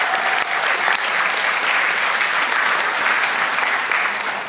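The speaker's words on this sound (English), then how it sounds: "can we just give them a round of applause?" Church congregation applauding fathers on Father's Day, a thick, continuous roar of clapping from a large crowd, evenly loud throughout with no speech over it.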